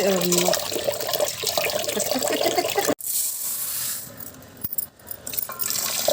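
Lentils are rinsed by hand in a bowl of water, with a steady close-up sloshing and splashing that continues across the clip, broken by a couple of brief sharp knocks.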